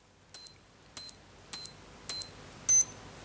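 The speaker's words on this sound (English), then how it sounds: "Listen to the beeps, okay? I'm going through the modes and then you'll know which mode has gone back to the time." A Timex digital watch gives five short, high electronic beeps at an even pace of about one every half second while cycling through its modes, close and clear with no talking.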